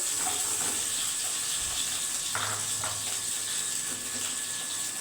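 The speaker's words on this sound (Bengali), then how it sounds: "এবারে আমি 200 পনির ভেজে নিচ্ছি হালকা করে।" Paneer, 200 grams, frying lightly in oil for a paneer curry, a steady soft sizzle with occasional pops and a few utensil clicks, no talking over it.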